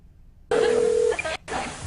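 Touch-tone keypad dialing on a telephone calling a movie phone line: a single steady tone at first, then a short run of dense beeps with a brief gap, fairly loud and close with no talk.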